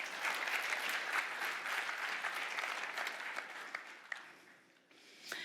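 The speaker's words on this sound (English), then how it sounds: "I'm gonna applaud because I'm excited" Audience applause at a Terraform 0.12 tech talk fills the room as an even, crackling wash of many hands clapping, tapering off near the end with a few last claps.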